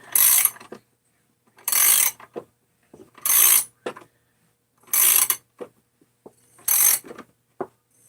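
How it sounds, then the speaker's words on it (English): A ratcheting wrench tightens crankcase bolts in bursts of rapid clicking, five loud runs of ratchet spaced a second or so apart, with small knocks and handling noises between them. "I got a ratcheting wrench, but effectively the same thing"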